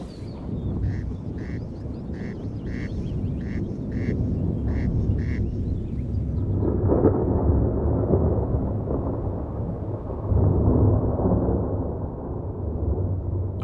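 Low rumbling thunder rolls through a stormy landscape with steady rain, loud and continuous, swelling around the midpoint and again later, while a short series of regular quacking bird calls sounds early on before fading.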